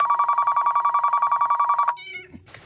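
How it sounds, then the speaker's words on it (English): A telephone rings with a steady, rapid electronic warble that lasts nearly two seconds, then cuts off and gives way to faint clicks and soft noise. "Speaking of Shecky, do you hear the phone ringing?"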